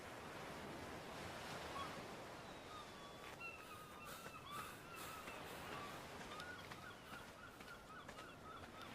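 Ocean waves wash steadily onto a beach in the video game Ark Survival Evolved, a continuous broadband surf with wind noise and faint bird calls in the background.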